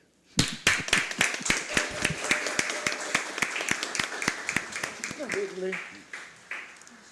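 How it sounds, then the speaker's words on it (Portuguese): A small group claps in a city council chamber in Criciúma, with sharp, distinct hand claps in a loose rhythm that thin out near the end while faint voices murmur underneath. "uma salva de palmas para o senhor"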